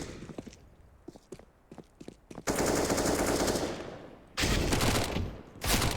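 Gunfire in the video game CS:GO during a pro match, including Desert Eagle pistol shots: sharp scattered reports and footsteps give way to dense, sustained bursts of rapid fire, loud and close.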